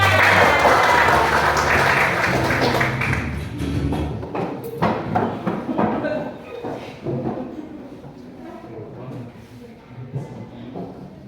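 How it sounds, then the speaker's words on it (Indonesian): Schoolchildren in a classroom clap together, loud at first and then breaking into scattered, uneven claps and thumps that fade over several seconds, with chatter mixed in. "Tepuk tangan semuanya."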